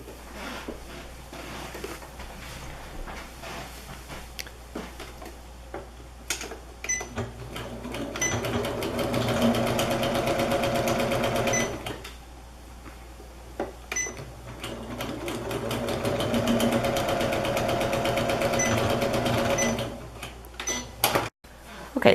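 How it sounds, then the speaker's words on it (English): A sewing machine stitches across a bag liner in two long, fast rattling runs separated by a pause, with a voice talking quietly before and between the runs. "you're going to sew right across that line"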